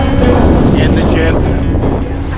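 A sailboat moves under sail on the Sea of Cortez, with loud wind buffeting the microphone over a constant rush of water and hull noise, close and unbroken.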